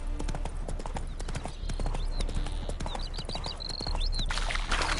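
Horse hooves clip-clop steadily and close at a walking pace in The Witcher 3 video game, with birdsong chirping in the background.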